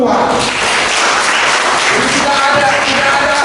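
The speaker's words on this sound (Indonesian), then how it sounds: "Tepuk tangan dulu untuk Tuhan." A church congregation at a Sunday worship service in Jakarta breaks into loud, steady applause, a dense wash of clapping that fills the room throughout.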